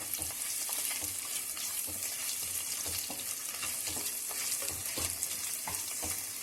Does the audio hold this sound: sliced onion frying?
yes